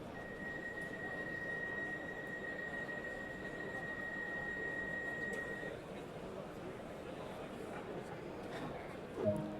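A train pulls in at Newton station on the Cathcart Circle Line in Train Sim World 2, a steady low rumble with a long high whine or squeal that cuts off partway, then a brief bump near the end.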